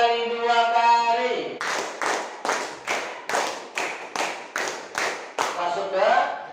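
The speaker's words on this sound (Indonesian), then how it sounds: "Tepuk tangan 5 kali 2 kali." Fourth-grade pupils in an Islamic studies class clap about ten times in a steady unison rhythm, two sets of five, loud and near, after a spoken instruction from an adult.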